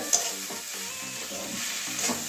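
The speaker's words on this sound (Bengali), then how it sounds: "এবারে একটু ভালো করে না মিশিয়ে নেব সব কিছু" Note shak greens with peanuts stir-fried in a pan: a soft steady sizzle under repeated scraping and clinking stirs of a spatula, close up and without talk.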